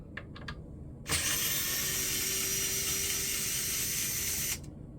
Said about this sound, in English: we're going to hit those with some gold spray paint